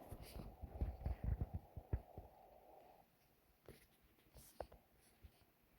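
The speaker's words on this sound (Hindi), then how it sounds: "अब लिखना स्टार्ट करते हैं पेन से।" A pen scratches across exam paper in quick close strokes that gradually grow fainter, with a few soft taps at the end.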